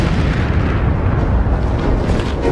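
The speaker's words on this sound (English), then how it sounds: "The rocket, of course, slowly comes back down on the pad, just explodes in a massive explosion." Massive explosion of an N-1 rocket falling back onto its launch pad, a dense continuous low roaring rumble that stays loud and steady throughout, with no voices.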